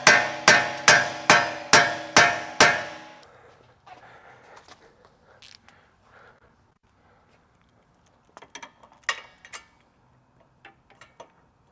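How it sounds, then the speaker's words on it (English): Hammer striking a seized axle nut on a G37 sedan wheel bearing: seven loud, evenly spaced metallic knocks in quick succession, then quiet with a few scattered faint clinks. "I can hit it with a hammer, knock it back, and not deform any of the threads"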